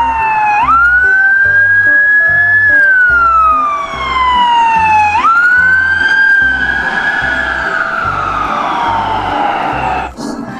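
A toy ambulance siren wails loud and close, its pitch sweeping up and sliding slowly down twice in a row, with a pulsing electronic beat underneath and a click at the end.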